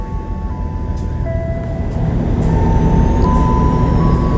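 Freight train wagons on K5 bogies roll past at a station platform, a loud, continuous rumble with steady wheel noise and faint high squeals, swelling slightly as more wagons go by.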